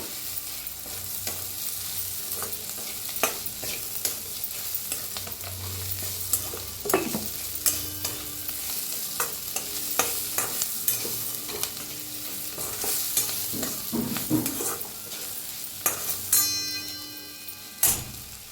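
Garam masala and red chili powder roasting in oil in a pan, a continuous sizzle broken by frequent clinks and scrapes of a spoon stirring against the metal, steady and close.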